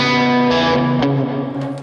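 Electric guitar played through a modded modern Marshall amp on its clean channel with reverb, a sustained ringing chord with shimmering echo that swells slightly at one point and then slowly decays, loud and close with no voices.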